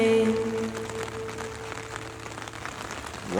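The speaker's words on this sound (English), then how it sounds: "Do you hear the rain and thunder?" Steady rain falls in a continuous hiss under a sustained musical tone in a children's song, with a slight swell in the final moment.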